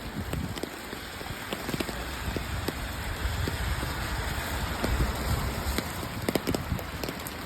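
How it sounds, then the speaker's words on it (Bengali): Heavy winter rain pouring down in New York, a dense steady patter with scattered close drips and splashes, continuous and fairly loud with a faint background hum. "আবার আরেকদিকে প্রচণ্ড বৃষ্টিপাত মানে কীরকম ইনকনভিনিয়েন্ট ওয়েদার"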